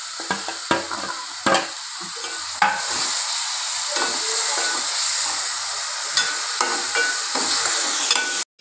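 Tomato paste added to softened onions frying in a pan for a fish curry, a steady, loud sizzle and hiss with irregular spoon scrapes and knocks throughout; no one talks.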